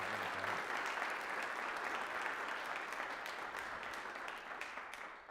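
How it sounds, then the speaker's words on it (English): An audience at a teacher education seminar gives a round of applause for a presenter named Carrie Lemke, steady dense clapping at moderate distance that tapers slightly toward the end. "Let's give Carrie Lemke a big round of applause"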